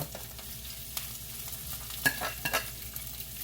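Broccoli frying in olive oil and butter in a pan that is not quite hot enough, a soft, low sizzle with a few sharper crackles and stirring scrapes, fairly quiet and without speech.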